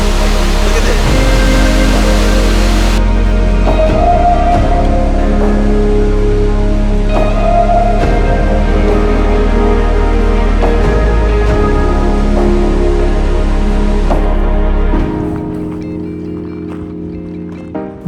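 The heavy roar of Skogafoss waterfall in Iceland fills the scene, a loud, continuous rushing wash heard up close for about fifteen seconds before it drops away abruptly.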